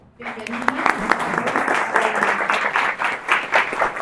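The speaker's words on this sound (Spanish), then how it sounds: "Recibamos con un cálido y afectuoso aplauso" An audience at a university keynote lecture breaks into warm applause to welcome a doctor to the stage, the clapping rising quickly and staying loud and busy, with some voices mixed in.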